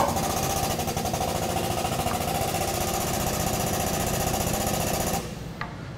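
A powered tube bender working steel tubing in a home fabrication shop, driven by a loud, steady, rapid hammering machine drone that runs for about five seconds before dropping away to quieter background noise.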